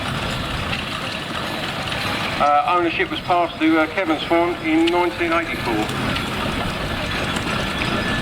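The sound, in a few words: steam agricultural engine running at steam rally parade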